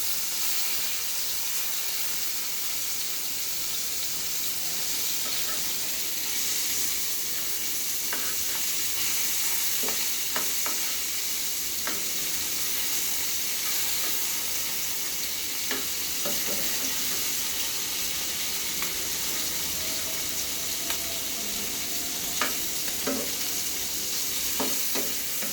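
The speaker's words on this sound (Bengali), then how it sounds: "এবার এপিট ওপিট করে ভালোভাবে ভেজে নেব" Hilsa fish pieces frying in hot oil in a pan, a steady sizzle and hiss throughout with occasional sharp pops and the scrape of turning.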